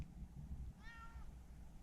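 A single short, faint cat meow rising and falling over a low background rumble.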